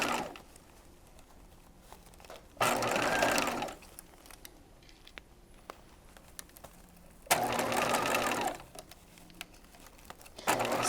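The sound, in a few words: sewing machine basting a seam with 4mm stitch length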